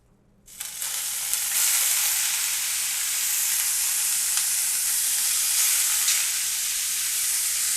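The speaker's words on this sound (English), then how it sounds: "we're going to go ahead and just put the salmon in there" Salmon fillet sears in a hot pan on the stove, a loud, steady sizzle that bursts in after a brief quiet start and holds evenly throughout, with no talk.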